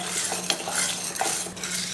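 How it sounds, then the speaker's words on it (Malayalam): A spoon stirs and scrapes sago roasting in ghee inside a pressure cooker, giving quiet, repeated metallic scrapes and a soft sizzle close by, with no voices. "ജവ്വരി നല്ലോണം വറുത്ത് കിട്ടിയിട്ടുണ്ട്"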